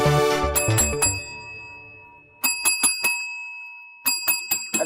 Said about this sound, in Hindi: कौन घंटी पे घंटी बजा रहा है?